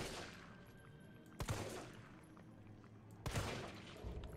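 Two sharp, loud gunshots crack about two seconds apart in Resident Evil 3 Remake, each with a short echoing tail, over a faint low background.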